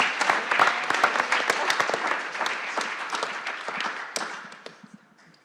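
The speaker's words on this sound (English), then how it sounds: "A hand of applause again to all the presenters." An audience at a university conference plenary workshop applauds the presenters, the clapping dense and lively at first, then gradually thinning to a few last scattered claps as it fades out.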